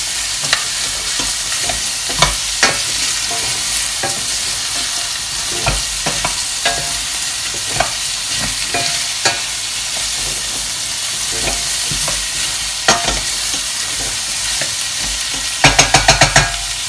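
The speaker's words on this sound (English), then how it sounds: "you have to keep mixing your carrots." Steady sizzling of carrots frying in a pot for carrot and coriander soup, with repeated scraping clicks of a utensil stirring and a brief cluster of taps near the end.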